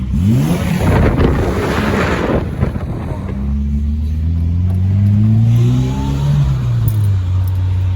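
A Peugeot 309 GTI hatchback pulls hard from inside the cabin with windows slightly open, wind buffeting at first before the engine note climbs loudly through the revs, drops briefly at a shift and rises again.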